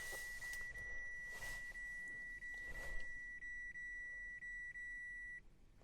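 A 2017 Mitsubishi Triton ute sounds its electronic chime as the accessories are switched on: a steady, evenly spaced series of high beeps over a faint cabin hum, stopping abruptly near the end.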